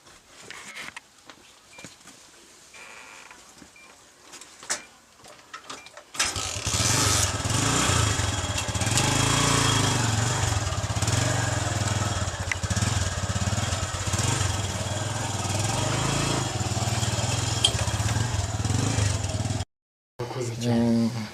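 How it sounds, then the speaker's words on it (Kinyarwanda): A motorcycle engine fires up after quiet rustling and then runs with a loud, steady rumble, cutting out briefly before catching again. "Moto yanjye nkaba narayibonye ni nayo najeho. mureke njye no kuyatsa mwumve ni nzima rwose."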